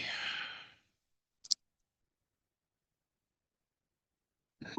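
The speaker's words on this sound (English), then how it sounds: "let's just take a few deep breaths together" A deep breath exhaled in a long, breathy sigh during a guided meditation, followed by a brief click, a quiet pause and the start of another breath, close and fairly soft.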